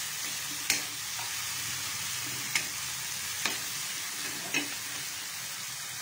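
Tomatoes sautéing in a frying pan for a pechay and chicken ball dish: an even background sizzle broken by four distinct sharp clacks of a utensil striking the pan, with no voices.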